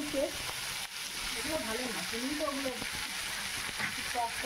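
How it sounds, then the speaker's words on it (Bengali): Chopped tomato goes into a pan of frying onions with ginger-garlic paste for chicken curry, a steady sizzle under a woman's speech. "পেঁয়াজ ভাজা হয়ে গেছে, এবার টমেটো কুচি দিয়ে দেবো।"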